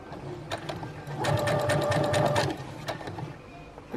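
A Brother sewing machine runs a steady, close back stitch, its rapid mechanical whir holding for about a second and a half between quieter handling clicks, with faint room noise around it.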